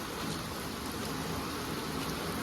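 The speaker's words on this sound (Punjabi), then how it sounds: "ਇਸ ਟਾਈਮ ਮੀਂਹ ਪੈ ਰਿਹਾ ਹੈ" Steady, dense rain pours down continuously, a broad hiss of drops striking surfaces with no pauses and no voices.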